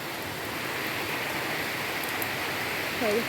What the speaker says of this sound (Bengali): বৃষ্টি পড়তেছে।